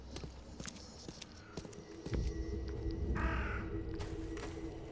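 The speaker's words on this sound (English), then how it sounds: "Where did the birds go?" Crows cawing in The Sinking City game, a few harsh caws over ambient noise, followed by a louder rumbling bed of footsteps and movement with no speech.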